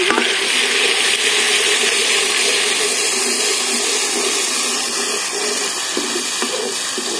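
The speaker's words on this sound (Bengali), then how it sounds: "পেঁয়াজ বাটা দিয়ে এখন গরম তেলে দিয়ে দিব।" Onion paste sizzling in hot oil while cooking a village-style mutton curry with potatoes, a loud steady crackling fry with light stirring, no voices.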